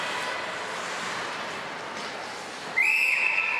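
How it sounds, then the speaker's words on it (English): A referee's whistle at a ringette game cuts in loud and shrill near the end as a single sustained blast over steady arena crowd noise. "And finally a whistle."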